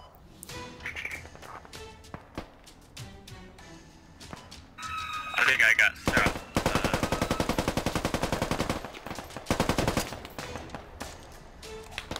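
Sniper and automatic gunfire in the tactical shooter Squad, played as a British marksman engaging a technical and troops, with sharp shots early then a sustained loud burst of rapid fire, under occasional radio chatter and talk.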